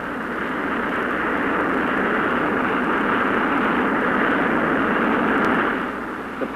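Steady, dense roar of an F-105 Thunderchief's Pratt & Whitney J75 jet engine, broad and unbroken for several seconds before easing slightly near the end, loud and with no voices.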